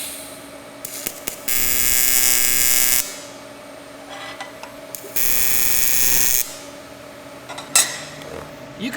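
An Everlast PowerTIG 255EXT TIG welder makes timed spot tacks: two bursts of steady bright hiss and buzz, each about a second and a half to two seconds, over a constant electrical hum, with faint clicks between.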